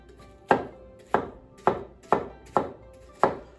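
A knife comes down on a cutting board six times in an even rhythm while dicing food during home cooking of arroz con pollo, close and crisp with no talk.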